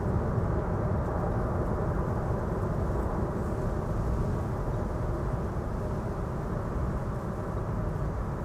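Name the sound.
landing airliner's thrust reverser at Amsterdam Schiphol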